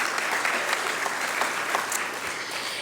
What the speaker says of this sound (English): Can we give the Milgard Business School of Business a round of applause?